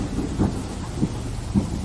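Distant thunder rolls in three soft low rumbles over a steady wash of rain during a stormy night, faint and muffled with no voices.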